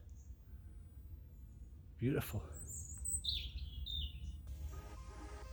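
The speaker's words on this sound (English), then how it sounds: "Listen to that bird." A songbird chirps and trills in high, quick phrases over low outdoor rumble on a trail near Culross, Fife, Scotland, with a brief spoken word partway through.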